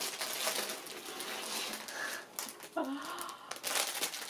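A plastic or paper bag from a subscription unboxing crinkles and rustles close by as an item is pulled out, a continuous crackly texture with brief louder crunches and some talking.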